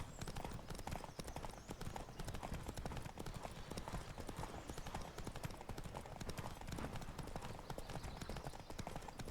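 Rapid, continuous hoofbeats of a galloping horse in the video game The Witcher 3: Wild Hunt drum on without pause, dense and rhythmic at a steady moderate level.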